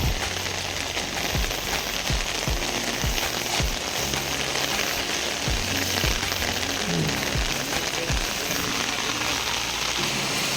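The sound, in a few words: rain falling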